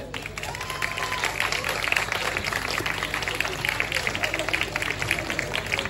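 Audience applause at a Dragon Ball Z Kai voice-actor event, greeting the voice of Goku; steady, dense clapping from a crowd fills the whole stretch at a moderate level, with voices mixed in beneath it.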